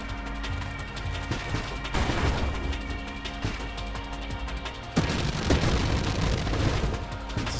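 Explosions in the Nova Drift space shooter game burst loudly twice amid constant rattling weapon fire, a dense crackling barrage with heavy booming onsets.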